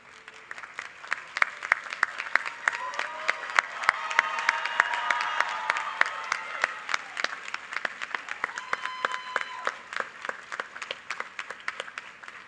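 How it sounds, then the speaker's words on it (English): Graduating students at a spring university commencement stand and give a long round of applause, a loud sustained wash of many hands clapping that swells in the middle and then thins out with scattered claps near the end. "Students, if you would please stand and give all those who helped you get to this moment a round of"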